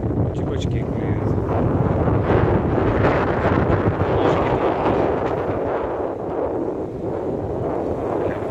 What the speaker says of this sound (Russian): Ветер ураганный